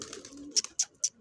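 Gola pigeons giving three short, close coos in quick succession over a faint, low background murmur.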